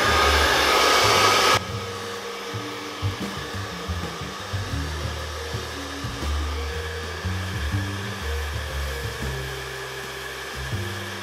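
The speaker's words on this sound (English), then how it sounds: "So I will get my brush here and then just start drying all the hair." A hair dryer blows loudly and steadily close by while hair is brushed, then drops to a lower, muffled roar that keeps shifting as the airflow moves through the hair.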